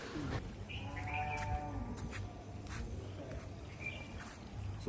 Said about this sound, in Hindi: सिर्फ बर्ड्स की आवाज़ और गाय के रंभाने की आवाज़ आ रही है।